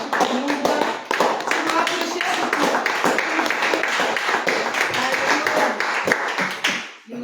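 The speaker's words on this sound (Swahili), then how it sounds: "Nataka tumpigie Bwana makofi" A church congregation claps for the Lord in loud, dense applause that runs nearly unbroken for several seconds and then tapers off at the end, with voices mixed into the clapping.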